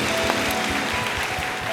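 Church congregation clapping together during a Sunday service, a dense steady wash of applause filling the hall, loud and continuous with no break.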